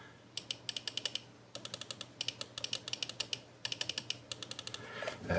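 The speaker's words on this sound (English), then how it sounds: "Now the magnetic switches in this, once again I'll click them to the mic so you can hear them." Magnetic switches of a SteelSeries Prime mouse click close to the microphone in quick bursts of sharp, crisp clicks, several rapid taps per group with short pauses between.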